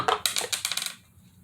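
Dice tumbling through a homemade bottomless dice tower, a quick cluster of sharp clattering knocks for about a second that then stops.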